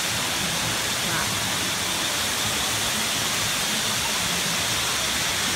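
A waterfall in Colombia rushes with a loud, constant roar of white noise that fills the whole scene without a break.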